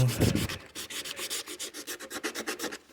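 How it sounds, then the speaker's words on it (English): Steady back-and-forth hand sanding on an EAA Windicator .357 Magnum revolver part, about a dozen quick even strokes in a regular rhythm, close up. "I'm just sanding these"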